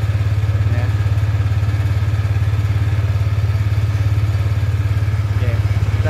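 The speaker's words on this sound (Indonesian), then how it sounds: "langsam sudah balik, tidak ada loss langsam atau engine speed ya" A Yamaha Lexi scooter engine idles steadily and loudly close by, a constant low throbbing with light mechanical clatter and no changes in speed throughout.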